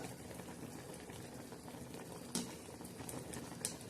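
Horse gram shengule simmering in a spicy gravy with green chillies, cumin and garlic, giving a quiet, continuous bubbling with a couple of soft pops and no talk.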